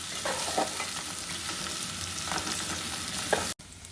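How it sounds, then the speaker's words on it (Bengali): Chopped onions frying in a pot for okra dal, a steady close sizzle and crackle with a few soft stirring scrapes, then an abrupt cut near the end. "পেঁয়াজটা আমি বেশি ভেজে নিব না, একটু নরম হলেই আমি ডালটা ছেড়ে দেব"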